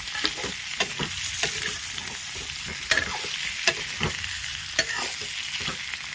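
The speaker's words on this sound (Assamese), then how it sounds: "এই আলুখিনি অলপ ভাজি লওঁ" Boiled potatoes fry in a pan for an Assamese potato-and-egg dum, giving a steady, close sizzle with repeated scraping and stirring clicks throughout.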